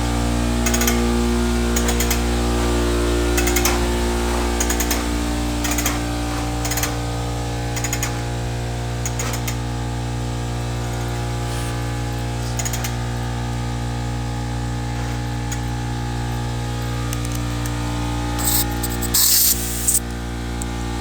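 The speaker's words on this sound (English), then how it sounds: "when I get enough air in there, I'll clean out the trimmer" Air compressor running steadily while it fills with air, a constant low motor hum with strong tonal drone, scattered clicks and a brief hissing burst near the end.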